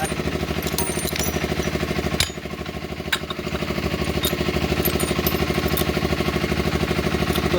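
Steady, rapid mechanical pulsing from a hydraulic press as a pipe is clamped tight for joining, loud and continuous throughout, with a couple of sharp metallic clicks partway through and no talking.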